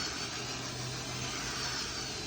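A power drill whirs steadily at a constant speed, a continuous close buzzing hum with a brush scrubbing stained car seat upholstery beneath it.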